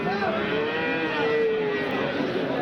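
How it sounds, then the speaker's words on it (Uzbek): Cattle low and moo steadily at a livestock market selling young bulls, a drawn-out bellow rising and falling over the murmur of the crowd, with someone speaking briefly. "Mana shu mollar akalar."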